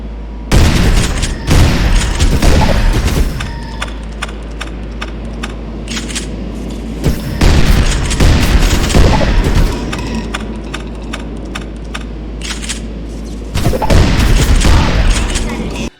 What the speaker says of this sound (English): Let's see how many alt fires it takes from this shotgun to kill this enemy.